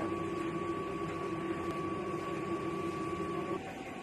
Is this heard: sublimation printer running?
yes